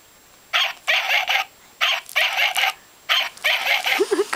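A toy dog barks in three quick bursts of yapping, each a run of several rapid barks, close and clear with brief gaps between.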